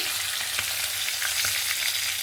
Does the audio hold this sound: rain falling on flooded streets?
no